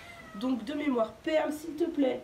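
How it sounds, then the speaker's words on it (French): A cat climbing into a bathroom sink lets out several close, plaintive meows in quick succession while someone talks over them. "C'est un chat qui monte dans le lavabo."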